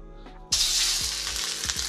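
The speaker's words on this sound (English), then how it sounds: "Now we're gonna add our sausage in." Sausage hitting a hot pan for breakfast fried rice, a sudden loud, bright sizzle that bursts in after a quiet moment and keeps hissing steadily up close, with a few faint knocks underneath.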